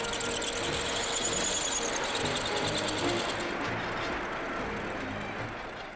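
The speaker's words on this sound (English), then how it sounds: "These tools wait till the fixture is accurately located and then descend to machine the cylinder" Vertical boring tools machine the cylinder bores of an engine block on a production line, giving a steady faint mechanical whir with a high squealing tone that eases off toward the end.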